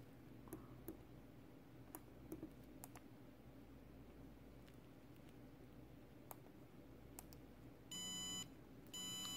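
Digital alarm clock built on a Raspberry Pi 4 and FPGA-ARM microcontroller project sounds in a quiet room; scattered faint clicks come first, then two bursts of electronic beeping near the end.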